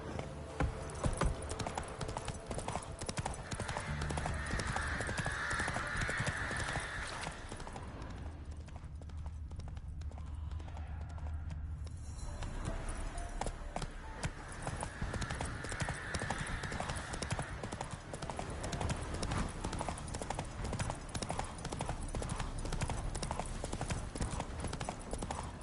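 Hooves of the horse Roach clip-clop steadily in a walking rhythm in The Witcher 3, loud and close, briefly dropping out midway before resuming over ambient game sound.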